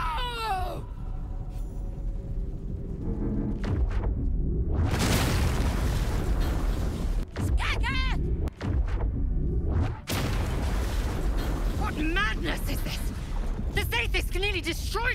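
Explosions and rumbling blasts in the fantasy role-playing video game Baldur's Gate 3, with a sustained loud burst mid-clip, a few sharp breaks and game voices talking throughout.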